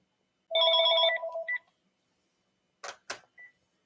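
Indoors, a landline telephone gives one bright electronic ringing burst and then falls silent, followed by a few brief clicks and handling sounds.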